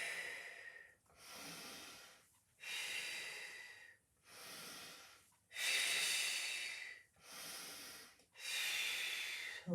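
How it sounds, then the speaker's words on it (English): Deep, audible breaths out and in during a Pilates exercise, with about seven long, airy breaths alternating rhythmically, close and alone. "breathing out, breathing in."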